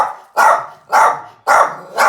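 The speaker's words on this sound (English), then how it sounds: "you hear high pitched barking and the sudden jittery movements" A reactive terrier that is fearful of men barks in sharp, high-pitched bursts, four loud close barks spaced roughly half a second apart with no other sound.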